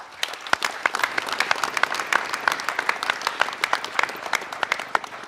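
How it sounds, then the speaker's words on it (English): A crowd applauds at a township mayoral inauguration ceremony, a dense run of sharp individual claps, fairly close and sustained, with no talking. "That's an applause line"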